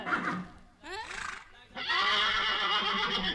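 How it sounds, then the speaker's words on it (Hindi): A horse neighs twice in a comic Hindi village skit, a short whinny followed by a longer, louder, shrill neigh after a brief pause, heard close by. "घोड़ा ये आवाज कर रहा है।"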